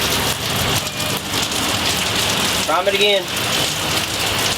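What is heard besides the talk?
rain falling during a cold roadside engine repair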